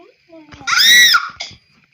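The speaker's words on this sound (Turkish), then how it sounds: "Kardeşim ne bağırıyorsun?" A child screams loudly for about a second in a high, sustained burst, followed by a shorter cry, in a home setting.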